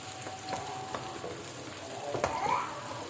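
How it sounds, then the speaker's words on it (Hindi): Onions frying in a pan for chicken qorma, a low steady sizzle with occasional soft scrapes and taps of a spoon stirring, close and quiet, no talk. "प्याज हम बिल्कुल अच्छे से हिला के एक जैसा फ्राई करके सारा निकाल लेंगे"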